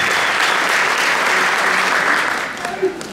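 An audience at a high school band and chorus winter concert applauds after a trumpet solo, loud sustained clapping that fades near the end, with a voice speaking over it.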